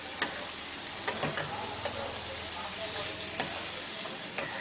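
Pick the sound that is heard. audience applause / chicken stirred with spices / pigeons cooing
chicken stirred with spices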